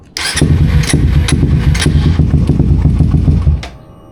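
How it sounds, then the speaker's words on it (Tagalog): A Suzuki GSX 150 motorcycle with an aftermarket exhaust on a stock ECU cranks hard for about three seconds, loud rapid starter chugging close by, then stops without catching. "10 beses natin sinubukan, ayaw umandar."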